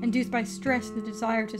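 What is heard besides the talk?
No everyday noises stand out.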